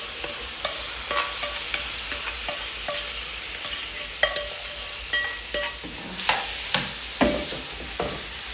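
Chicken pasta ingredients stirred and frying in a pan, with a steady sizzle and repeated scraping clicks of a utensil against the pan, close up and without talk.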